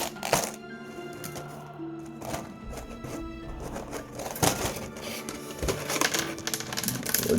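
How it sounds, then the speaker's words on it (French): A Chucky figurine is being unboxed, with a run of close crinkling plastic and cardboard packaging sounds, tearing and clicking bursts at irregular intervals. "on va déballer ça"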